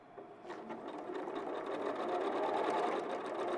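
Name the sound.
sewing machine sewing on a handle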